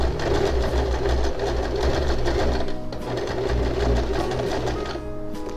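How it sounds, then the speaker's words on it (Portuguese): Sewing machine running steadily and slowly through a denim jeans seam, a continuous near mechanical whir and thump with no talking. "É só você vir costurando bem devagar, para conseguir manter aqui uma costura bem certinha."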